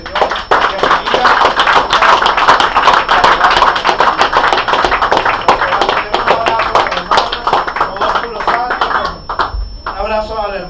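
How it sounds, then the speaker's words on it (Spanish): Congregation giving the Lord a loud round of applause during a Spanish-language church service, dense sustained clapping lasting nearly the whole stretch, with voices mixed in and fading near the end. "Den un fuerte aplauso al Señor"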